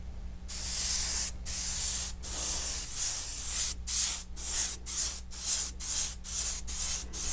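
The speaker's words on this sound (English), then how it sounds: "I'm just going to add just kind of an even mist over the whole thing." UV white spray paint misting evenly over a surface, a series of close hissing bursts that start and stop repeatedly with brief silent gaps between sprays.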